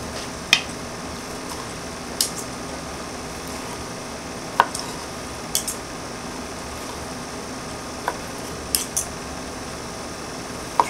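A razor-sharp Emerson/Kershaw collaboration knife with a big-bellied blade slices steak on a plate. Scattered light clinks and taps of the blade against the plate come every second or two over a steady low background hum.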